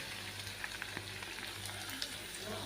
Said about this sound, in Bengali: উচ্ছেটা দেওয়ার পরে আমি এটা আরও তিন মিনিট মতন গ্যাসের ফ্লেম মিডিয়ামে রেখে একটু নেড়ে নেব